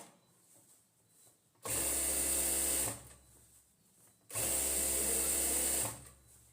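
A sewing machine stitching elastic onto a pair of pajamas runs in two loud whirring bursts of a bit more than a second each, with quiet handling between them.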